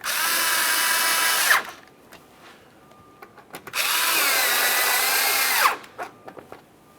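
Power drill snugging up two 7mm-headed mounting screws under the front bumper cover of a 2017-2024 GMC Acadia, two bursts of high whirring about two seconds each, separated by light clicks and handling noise.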